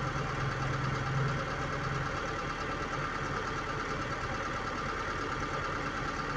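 A car engine idles with a low, even rumble and faint knocking, slowing down, continuous and close, with no voices; the car has an idle speed control fault causing high, fluctuating idle.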